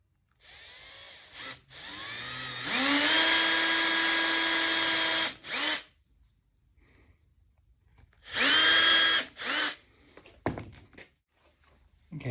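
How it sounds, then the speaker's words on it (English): A power drill bores holes through an arcade control deck template, whining loudly in two long bursts separated by short stops, clunks and quiet handling noise, with no talking. "I'm just drilling the holes out."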